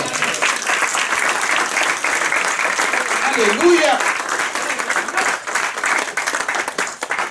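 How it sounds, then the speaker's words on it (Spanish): A church congregation claps loudly and continuously in praise, a thick sustained roar of applause with scattered shouts and a voice calling out briefly in the middle. "¿Cuánto le pueden dar un aplauso al Señor?"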